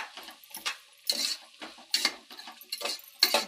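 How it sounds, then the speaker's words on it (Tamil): A spoon stirs a vegetable biryani mixture in a pan in repeated close scraping strokes, roughly one every half second, over a faint background sizzle. "அப்படியே நம்ம நல்லா கலந்துடலாம்."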